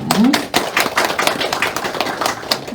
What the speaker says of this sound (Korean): 감사로 박수로 인사드리기 바랍니다